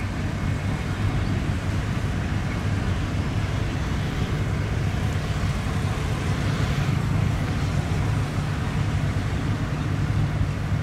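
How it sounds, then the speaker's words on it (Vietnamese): A small speedboat runs through the waves thrown by the Everest boat, heard as a steady, low engine drone mixed with rumbling wind and water noise throughout. "làn sóng của thằng Everest nó sẽ làm chiếc cao tốc nhỏ rất là khó khăn nha"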